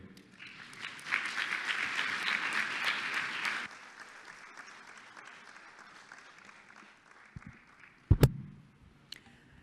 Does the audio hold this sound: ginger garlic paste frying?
no